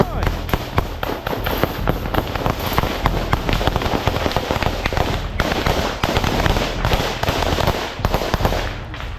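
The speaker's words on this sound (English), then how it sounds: "Just at that moment, the Russians opened heavy fire." Heavy gunfire pours from a Russian trench, dense crackling bursts of shots firing rapidly and continuously at close to mid range, with scattered voices under the noise.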